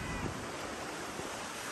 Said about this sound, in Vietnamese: Ra đây sóng đánh sướng lắm.